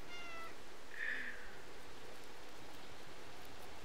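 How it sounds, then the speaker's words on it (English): Cats meow in the video game Stray, one clear, fairly close meow standing out over a steady hiss of rain-like ambience, with no talking. "They come when I meow."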